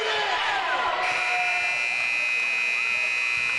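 The end-of-quarter buzzer in a high school girls' varsity basketball game sounds as a long, steady electronic tone over a noisy gym crowd, starting just after a burst of cheering.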